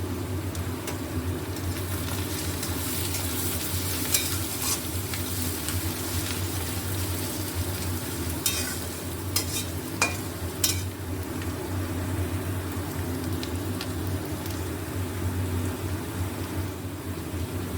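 Asafoetida fries in a pan for a chicken egg tadka, a steady low sizzle under scattered metal scrapes and clinks of stirring.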